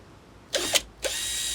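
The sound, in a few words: power drill pre-drilling a marker hole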